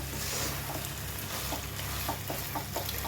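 A fish head sautés in hot oil in a pan with a steady sizzle and occasional scraping stirs throughout.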